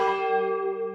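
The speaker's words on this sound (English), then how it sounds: "Then the bell rings." A single bell strikes once from inside a backpack in a guesthouse in Ayutthaya, a clear metallic ring that sustains and slowly fades over a second.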